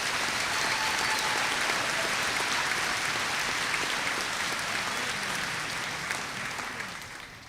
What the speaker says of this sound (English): So let's have a round of applause now.